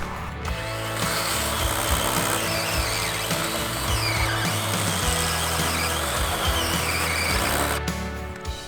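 A DeWalt cordless chainsaw with a 14-inch bar runs steadily and loud for several seconds cutting a log, a continuous high whine with a low motor drone underneath, cutting without pause.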